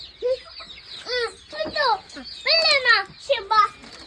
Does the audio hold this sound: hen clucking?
yes